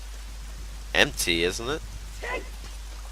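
Steady rain falls at Lake Hylia in Zelda: Ocarina of Time as a constant hiss beneath a man's speech.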